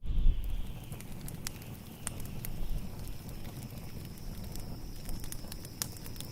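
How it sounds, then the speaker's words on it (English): Wood fire crackling in a desert setting, scattered sharp pops and snaps over a soft steady hiss, faint and even throughout. "the fire crackling wood"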